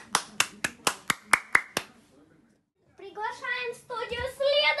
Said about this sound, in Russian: Аплодисменты Уле.